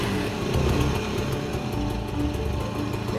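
A 1968 Francis-Barnett Plover two-stroke motorcycle engine runs in a steady, buzzing drone, close and continuous, after being started.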